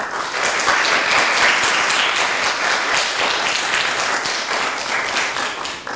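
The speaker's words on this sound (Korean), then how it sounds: "토론에 참여하신 모든 분들에게 힘찬 박수를 부탁드립니다." An audience gives loud, sustained applause at the end of a student debate contest on whether sports stars' high salaries are justified. Many hands clap densely and evenly for several seconds, then taper slightly, with no talking over it.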